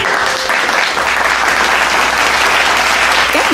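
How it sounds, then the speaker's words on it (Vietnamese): Loud, sustained applause fills a restaurant hall at a high school alumni reunion celebrating 31 years since graduation, a dense crowd clapping steadily throughout. "chào nhau bằng một tràng pháo tay thật lớn"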